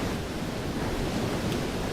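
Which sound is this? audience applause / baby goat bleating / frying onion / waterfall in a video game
waterfall in a video game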